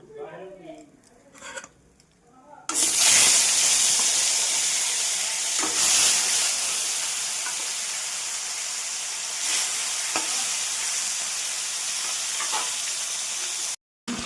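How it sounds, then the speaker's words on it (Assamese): After a few quiet seconds, loud, steady sizzling of fish frying in hot oil in a pan sets in and hisses continuously close by. "এতিয়া মই ইয়াতে মাছখিনি ভাজি ল'ম"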